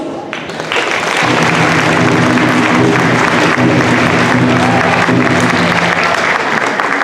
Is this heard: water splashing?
no